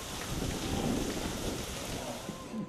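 Steady rain pours down during a sudden downpour after hot weather, a dense continuous wash with a faint low rumble that may be thunder, heard close and fairly loud throughout.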